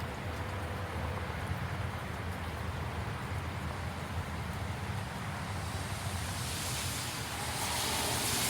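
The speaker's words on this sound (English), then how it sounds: "The rain's really calmed down a bit." Steady rain pours down during a storm as a dense, continuous wash of noise that holds level throughout and swells slightly near the end, with no voices.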